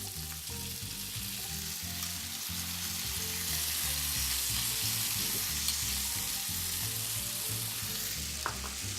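Soaked beans and a splash of their liquid hit a hot pan and sizzle steadily and loudly, a dense continuous hiss with faint low clunks of stirring underneath and no talking.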